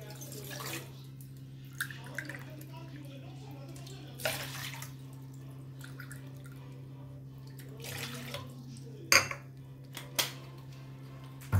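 Water runs from a tap into a pot for masala tea, a steady splashing pour with a few clinks of the pot, close and moderately loud in a home kitchen.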